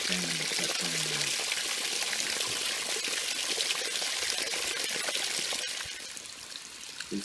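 Water rushing out through a crack in a concrete water tank as polyurethane injection expands inside it, a steady gushing, splashing flow that eases somewhat toward the end.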